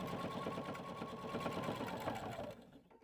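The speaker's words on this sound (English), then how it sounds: "step to our sewing machine and sew an 1/8 inch top stitch around all the finished edges" A sewing machine sewing a top stitch along fabric edges runs at a steady rapid clatter for a few seconds, then slows and stops.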